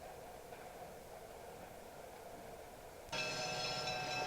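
A train grinds around a sharp curve on a rural line toward the yard at Van Buren: a steady, distant rumble with a sudden shrill metallic wheel squeal rising near the end.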